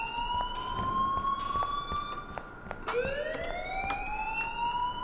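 A wailing electronic alarm in the video game Life is Strange sweeps up and down nonstop, loud and near, restarting its rising sweep partway through.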